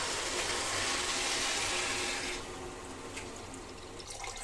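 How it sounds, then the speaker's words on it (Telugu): Water pours into a pot of rice for vegetable pulao with a steady, rushing splash for about two seconds, then drops to a quieter trickle and fades, with no voices. "అదేంట ఇదిగోండి వాటర్"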